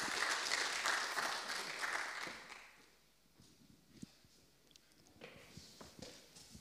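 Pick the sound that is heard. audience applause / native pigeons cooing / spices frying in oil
audience applause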